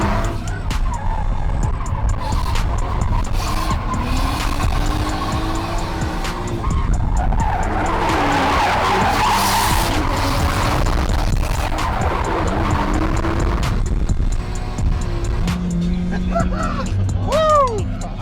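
A Lexus GS300 with a 2JZ engine drifts in a tandem session, its tires skidding and squealing continuously under a loud, revving engine, close and sustained, with people shouting over it.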